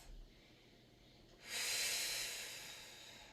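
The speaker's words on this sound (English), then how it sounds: "Take a nice deep breath." A deep inhalation during a Pilates flow with a foam roller: quiet at first, then a broad, airy breath swells in about halfway through and slowly tapers off, close and fairly soft.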